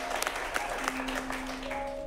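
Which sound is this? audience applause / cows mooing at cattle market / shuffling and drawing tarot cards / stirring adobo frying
audience applause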